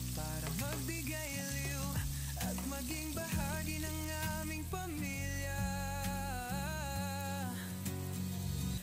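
Ingredients for regular lumpia spring rolls sautéing in a pan, a continuous close sizzle under background music throughout.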